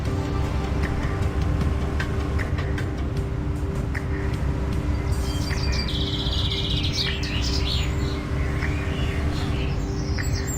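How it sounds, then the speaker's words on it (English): Birds chirp and tweet in the background of the My Winter Car video game, short calls sitting over a steady low rumble that lasts throughout. "Now we're hearing some birds in the background."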